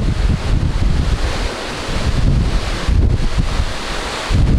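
Strong wind buffeting the microphone on a cruise ship deck at sea in the Mediterranean, loud gusty roaring with surf-like rushing water underneath, surging and easing in uneven waves.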